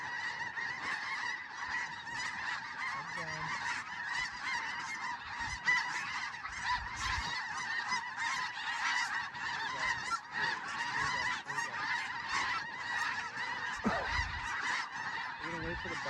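Snow geese honking in a large flock during a North Dakota fall hunt, a dense, continuous chorus of overlapping calls, steady and fairly distant, with occasional faint thumps and rustles.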